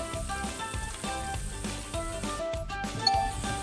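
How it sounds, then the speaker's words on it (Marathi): Vegetables fry for veg crispy over a medium gas flame, a soft, steady sizzle close by and fairly quiet, mixed with faint clinks and background hum. "आता हे व्यवस्थित असं थोडं मीडियम गॅसवरती आपल्याला फ्राय करायचंय।"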